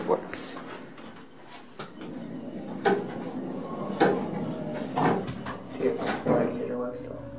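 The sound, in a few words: Dover hydraulic elevator door closing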